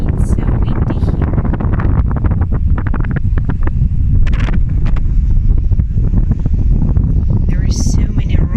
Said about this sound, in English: Windy, it's so windy here.